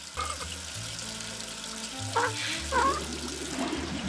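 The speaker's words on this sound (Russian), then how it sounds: "Вода. Обыкновенная вода." Water in a video game pours and bubbles steadily like a running tap, close and moderately loud, with a low tonal hum and a few small squeaky blips over it.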